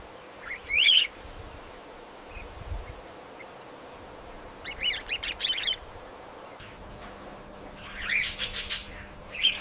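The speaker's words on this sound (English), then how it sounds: "Meet the Budgerigar, and the world's most popular pet bird." A pet budgerigar gives three short bursts of bright, twittering chirps separated by quiet pauses, close and clear over a faint background hum.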